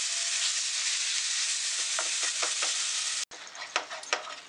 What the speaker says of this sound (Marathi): ही पेस्ट आपण छान अशी शिजवून घेऊया